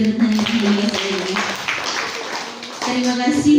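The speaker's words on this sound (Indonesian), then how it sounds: "Berikan tepuk tangan untuk Ibu Sri Retnani." Audience clapping at a formal gathering, a steady patter of applause running under a speaker's voice throughout, moderately loud and continuous.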